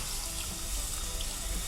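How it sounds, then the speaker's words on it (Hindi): Hot water pours into egg methi curry gravy in a dhaba-style kitchen, making a steady, continuous splashing stream, close and even throughout. "और अब जो ध्यान देने वाली बात है वो ये है कि अपने यहाँ पर एंड में गर्म पानी डालना है।"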